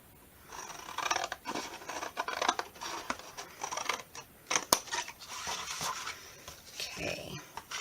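Scissors snip through paper in a series of short, crisp cuts with small pauses between them, close and fairly quiet, with light rustling of the paper squares as they are trimmed away.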